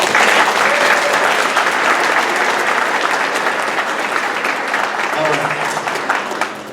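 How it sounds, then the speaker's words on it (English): Loud, steady applause for elementary school students at a school board literacy tour event, a dense crowd clapping continuously from start to finish with faint voices mixed in. "Let's give all these students a round of applause"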